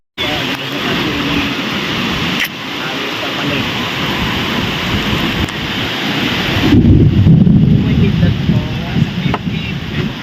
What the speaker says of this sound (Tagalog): It's raining. Raining.